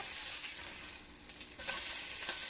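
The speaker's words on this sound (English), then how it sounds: "So we're going to flip our burger over." A bison burger fries in a pan, giving off a steady, fairly quiet sizzle with a brief scrape and shuffle as the patty is flipped midway.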